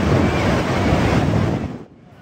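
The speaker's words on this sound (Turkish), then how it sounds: "Dev dalga kıyıya vurdu, insanlar panik içinde kaçıştı." Large surf wave crashing onto the shore at Hangzhou, China, a loud continuous roar of churning water with wind buffeting the microphone, then dropping away abruptly near the end.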